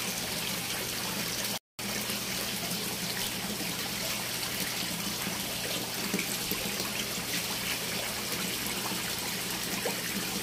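Water flows and trickles continuously into a round tilapia fish pond during a water change, a dense, steady wash with a brief dropout near the start; no voices.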